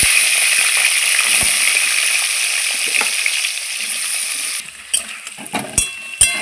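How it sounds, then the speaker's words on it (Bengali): Potato pieces fry in hot oil for a Bengali potol rosa curry, a loud continuous bright sizzle that eases off midway, followed by a few clinks and scrapes of a utensil in the pan. "এখন আমি এই তেলে আলুগুলো ভেজে নেব।"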